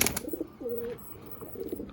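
Pigeons in a loft give a soft, low cooing call close by, one clear drawn-out coo amid faint rustling and other quieter bird murmurs.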